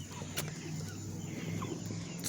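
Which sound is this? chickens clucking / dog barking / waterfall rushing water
chickens clucking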